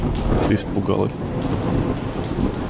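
Thunder rumbles under steady heavy rain in a stormy scene from the video game A Hat in Time, loud and continuous, with a brief spoken word over it.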